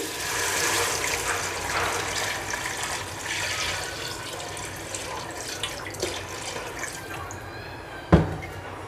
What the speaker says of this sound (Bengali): এখন দিয়ে দিচ্ছি পানি